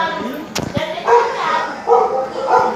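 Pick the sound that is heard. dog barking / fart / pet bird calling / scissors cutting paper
dog barking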